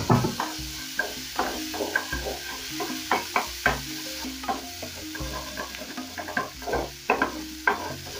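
Ginger and garlic fry in a pot for fish stew, with a close, bright sizzle under frequent rhythmic spoon clicks and scrapes against the pot, and no talking.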